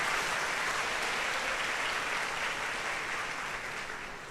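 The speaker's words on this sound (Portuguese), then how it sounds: "dá uma salva de palmas para essa igreja" A church congregation applauding during Mass, a dense, sustained wash of many hands clapping in a reverberant hall, steady throughout and tapering slightly at the end.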